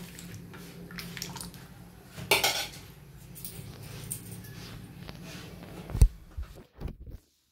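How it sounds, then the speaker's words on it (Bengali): Food being stirred in a cooking pan, with a utensil scraping and clinking against the metal in uneven strokes, a louder clatter near the middle and a sharp knock near the end; close and fairly quiet, no voices. "ভালো করে নাড়িয়ে নেব।"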